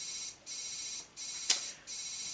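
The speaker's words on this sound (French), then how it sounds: "j'ai allumé mon téléphone, les mecs" A mobile phone powering on plays a steady, faint, high electronic tone that pulses on and off in a regular rhythm, broken by one sharp short blip near the middle.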